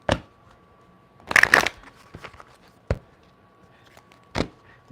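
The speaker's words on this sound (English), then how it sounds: "quick shuffling." Tarot cards are shuffled quickly in several short riffling bursts, close and crisp, with brief quiet gaps between the flurries.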